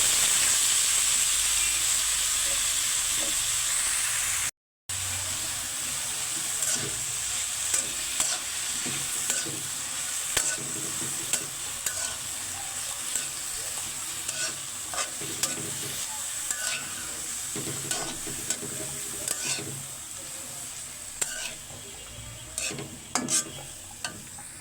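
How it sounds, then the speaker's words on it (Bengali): Chopped, boiled banana flower cooking in hot tempering oil, a steady close sizzle and hiss with frequent scraping stir strokes throughout, one brief dropout near the start, no voices. "এখন বাগারে দিয়ে দিচ্ছি।"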